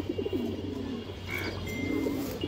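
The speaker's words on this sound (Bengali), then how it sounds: "একটা ইন্ডিয়ান কালদম মাদি কবুতর আছে, বড় সাইজের একটা মাদি দর্শক" A large, restless Indian Kaldom female pigeon with a sixteen-feather tail gives a few soft, wavering coos nearby, one early and a longer one near the end, over a low steady hum.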